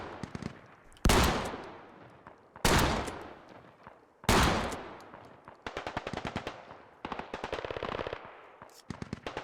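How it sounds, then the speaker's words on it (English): Shotgun blasts in the military shooter game Squad, three loud booming shots spaced about a second and a half apart, followed by rapid bursts of sharper gunfire and scattered single cracks. "He is wasting rounds at range with a shotgun"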